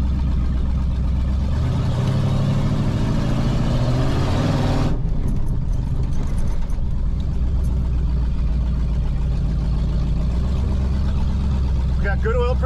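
A 1989 Ramcharger with a 383 engine and open headers runs with a loud, steady, rumbling exhaust drone, close by. Partway through, the tone abruptly drops to a lower, rougher idle.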